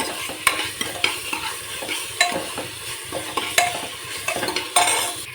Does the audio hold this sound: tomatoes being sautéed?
yes